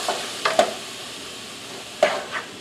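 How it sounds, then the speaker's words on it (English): Garlic cooking in a pan over low heat on an electric stove, heard as a soft background sizzle broken by a few sharp clinks and scrapes, probably a utensil, with no talking. "So I'm adding a bunch of garlic."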